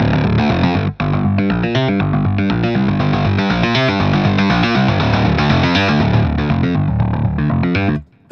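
Native Instruments FM8 FM synthesizer playing a dense, rhythmic distorted pattern that shifts from a softer tone toward a harsher, edgier one, loud and continuous with a brief gap near the start and a cutoff at the end.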